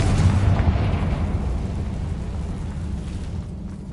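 A Confringo blasting spell explodes in Hogwarts Legacy, a loud rumbling boom that fades gradually over a few seconds, with no talk.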